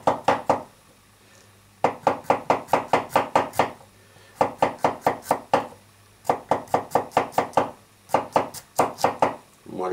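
Kizer Mini Paragon knife with a 154CM steel blade cutting in quick repeated strokes, bursts of about six to eight sharp chopping taps separated by short pauses, close and crisp, with no voices.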